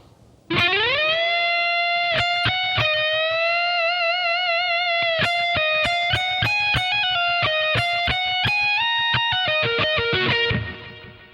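Slow, deliberate playing of an opening section on an electric guitar with distortion and echo effects, a long sustained first note followed by a run of picked notes and bends, loud and close before cutting off.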